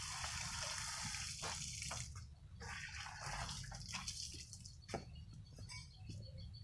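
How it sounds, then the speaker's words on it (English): Water running from a school drinking-water outlet, a steady splashing tap flow that briefly eases, close and fairly soft with no talking. "You can see this is the second outlet for drinking water."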